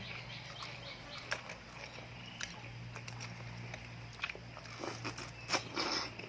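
Large raw oysters with crispy garlic being eaten up close: wet slurps, soft bites and scattered crunches, irregular and intermittent over a low steady background hum, with no talking.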